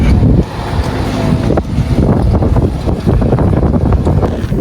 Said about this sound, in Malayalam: മരുഭൂമിയിലെ പൊടിക്കാറ്റ് ഒട്ടും പറ്റുന്നില്ല